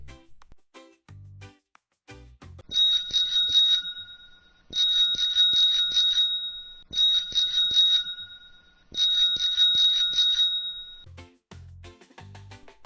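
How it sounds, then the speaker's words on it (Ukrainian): A bicycle bell rings in four separate bursts of rapid trilling, clear and close, with short pauses between and quiet clicks around them. "дзвоник велосипеда."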